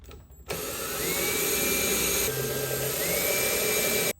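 A power drill whines steadily while boring bolt holes, slightly larger than the bolts, through a car door for mounting. The whirring is loud and close, with a brief pitch shift partway through and no talking.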